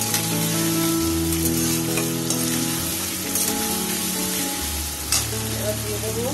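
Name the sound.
potatoes with spices being stir-fried in a pan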